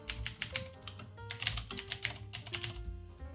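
Keys on a mechanical computer keyboard clack in quick, uneven bursts of typing at close range, sharp and crisp, with no talking.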